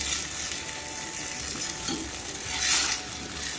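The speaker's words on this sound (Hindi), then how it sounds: "ये मसाला हमने अच्छी तरह भूनना है कि जो टमाटर हैं वो थोड़ा सा मैशी हो जाएं" Tomato masala fries in a pan and is mashed and stirred with a spoon, giving a steady close sizzle with scraping and a brief brighter burst near the end, no talking.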